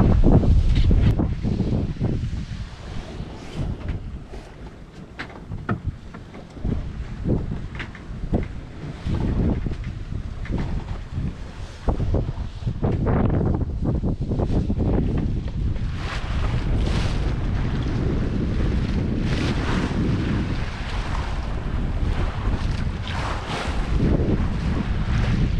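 Steady roar of wind buffeting the microphone with rushing water along the hull of a sailboat under one reef in the mainsail and headsail in about 14 knots of wind, continuous and loud throughout.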